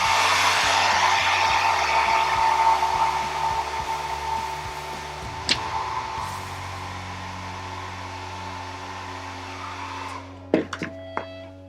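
Hair dryer blowing on glue in a burn hole repair, a loud steady whoosh that fades partway through and cuts off near the end, followed by a few sharp clicks and handling sounds.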